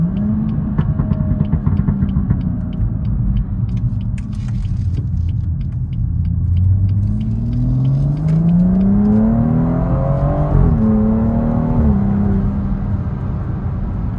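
A BMW 440i M Performance rated at 360 hp pulls hard with a loud, continuous engine rumble whose pitch climbs steadily, then eases and settles as the car brakes, heard from inside the cabin with no talk over it.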